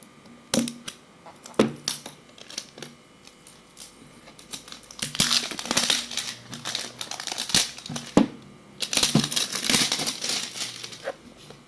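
Packaging of a Ferrox air filter for a CBR 250 RR motorcycle crinkles and rustles up close as it is unboxed, with sharp taps and clicks early on, then longer bursts of dense plastic crackling.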